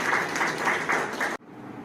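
An audience at an income tax workshop claps to welcome a speaker to the stage, a dense burst of applause that cuts off abruptly into quiet room tone.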